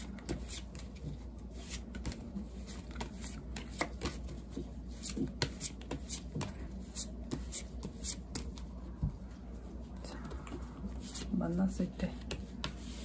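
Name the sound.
shuffling tarot cards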